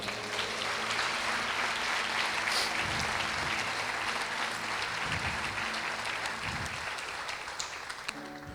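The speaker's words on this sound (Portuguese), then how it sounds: "Você pode aplaudir o Senhor?" Church congregation applauding to the Lord during a Pentecostal-style worship service, a dense, steady wash of clapping that fills the room, sustained loudly throughout and easing slightly near the end, with no talking over it.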